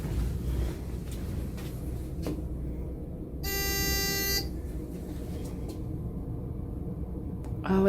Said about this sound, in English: Oh, I think that's if the call button gets pushed.